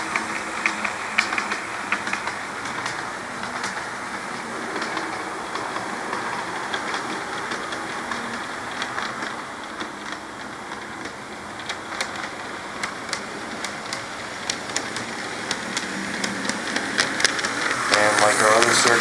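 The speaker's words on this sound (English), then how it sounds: "I'm only using two engines for this train just to save us some time here." A model train run with two engines passes trackside signals, its steady rolling rumble continuing throughout and swelling slightly toward the end, with a voice talking over it.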